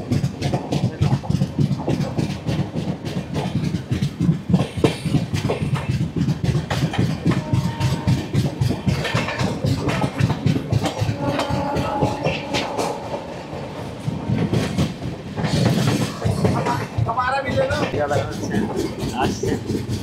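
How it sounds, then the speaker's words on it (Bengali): The Chennai–Howrah Mail passenger train pulls out of a station and runs steadily, its wheels keeping up a continuous clickety-clack along the track while people talk nearby throughout. "তো আমাদের ট্রেন ছেড়ে যাচ্ছে তার পরবর্তী স্টেশন আন্নাভারামের উদ্দেশ্যে।"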